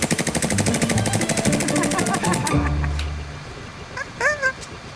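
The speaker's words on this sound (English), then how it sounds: "I have a fully licensed Glock 18C. Point it down at the ground. Okay. That's gonna shoot full auto" An airsoft Glock 18C pistol fires a rapid full-auto burst of closely spaced sharp cracks for about two and a half seconds. A short voice follows afterward.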